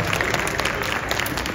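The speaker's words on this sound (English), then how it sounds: "Clap to the Mother India." An audience at a Republic Day celebration claps loudly and steadily throughout, a dense, close burst of applause with no voices audible.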